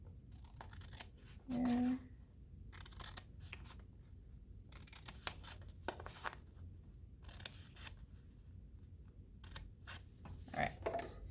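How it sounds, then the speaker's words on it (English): Scissors snipping straight lines into folded card for a pop-up card, a series of quick close crisp cuts in irregular bursts, with a brief spoken word partway through. "We're going to start cutting straight lines."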